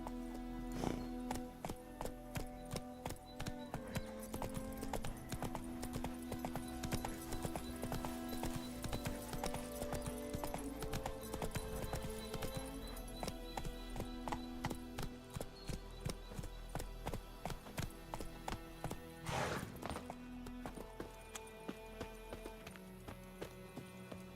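Roach the horse trots along in The Witcher 3 video game, hooves clip-clopping in a steady, even rhythm beneath game music that plays throughout.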